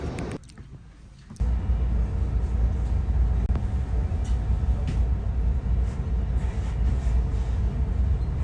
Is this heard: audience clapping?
no